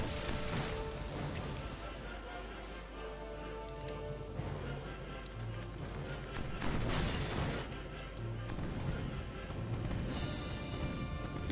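Cannon fire in the pirate naval game Age of Pirates: Caribbean Tales, a dense, loud barrage of booming shots and crashes layered over continuous battle noise and wind.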